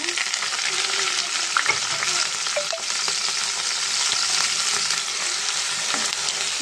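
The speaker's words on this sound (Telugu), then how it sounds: "ఆయిల్ వేడి అయిందండి వేసేద్దామండి మనం" Chopped onions fry in hot oil in a pan with a dense, steady sizzle and crackle close to the microphone. Faint stirring clicks come through now and then, and no voice is heard.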